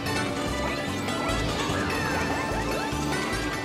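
Karts crash in the Mario Kart: Double Dash!! video game, loud cracking smashes and thwacks over constant busy game music and engine noise, with repeated impacts throughout.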